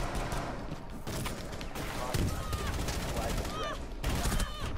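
Dense, continuous gunfire fills a Rainbow Six Siege match, rapid automatic bursts layered with clanks and other game effects, loud and close throughout, with voices talking over it.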